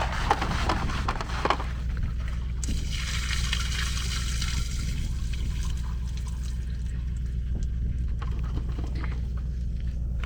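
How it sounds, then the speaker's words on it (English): Water from a jerry can pours steadily into a toilet cassette as it is rinsed out, a continuous close gush with trickling and sloshing, heavier at the start and settling into a steady flow. "I probably use about 2 litres, if that, maybe a litre, just to give it a rinse out till it comes out nice and clean"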